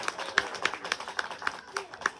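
Steady, evenly spaced claps from a small audience at a magic show, about three or four per second, fairly close and moderately loud, with a faint murmur underneath.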